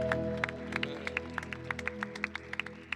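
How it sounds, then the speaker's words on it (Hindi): Church congregation clapping together to thank God, a scattered run of sharp claps over a steady musical drone, moderately loud and fairly close. "आइए जोरदार ताली देकर खुदा को धन्यवाद दें।"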